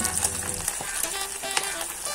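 Bacon sizzling in a frying pan with fish fillet, a close, constant crackle dotted with sharp pops spread across two seconds.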